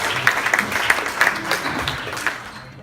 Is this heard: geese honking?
no